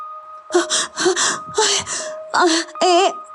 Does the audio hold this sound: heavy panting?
yes